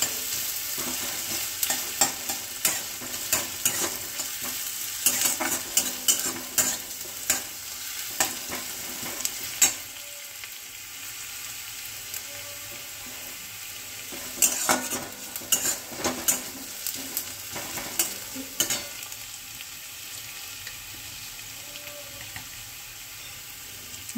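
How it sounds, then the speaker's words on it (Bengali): Onions frying lightly in a pan for a chicken curry, with repeated spoon scrapes and stirring clatter over a steady close sizzle, busy in bursts with quieter pauses between. "পেঁয়াজটা আমি দিয়ে দিলাম, পেঁয়াজটাকে আমি হালকা ভাজবো"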